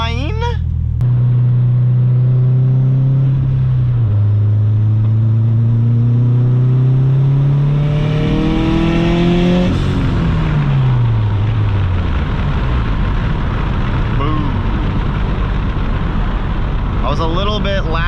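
A car engine accelerates onto a highway on-ramp, a loud, close drone whose pitch climbs steadily over several seconds, then drops away into a broad rushing roar of road and wind noise at speed.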